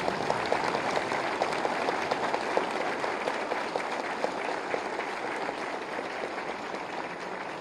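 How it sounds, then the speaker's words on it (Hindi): A large audience at a government appointment-letter ceremony claps steadily to welcome Uttar Pradesh Chief Minister Yogi Adityanath, a dense, even roar of applause lasting throughout. "तालियों के गड़गड़ाहट से"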